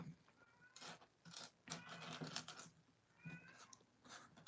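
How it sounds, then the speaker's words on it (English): A domestic cat meows fiercely in repeated, insistent cries with brief gaps between them, fairly close by, over a faint background of small clicking sounds. "One of my cats is meowing fiercely."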